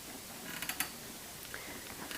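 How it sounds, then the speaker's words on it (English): A Fisher Price Snug a Bear baby swing creaks faintly as it sways, a few soft irregular creaks and ticks over quiet background noise. "you hear the creaking"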